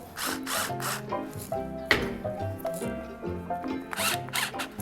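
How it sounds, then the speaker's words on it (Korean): A kitchen blender grinding fish cubes with salt and pepper into a mousse, a close whirring motor with rising and falling pitch in short uneven bursts, no talking. "블렌더에다가 넣고 자, 무스를 갈아 보겠습니다"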